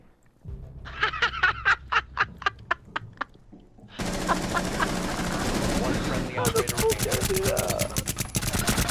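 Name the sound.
gunfire in the video game Rainbow Six Siege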